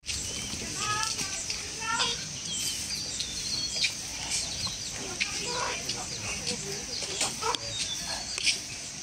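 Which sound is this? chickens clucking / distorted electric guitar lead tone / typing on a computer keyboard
chickens clucking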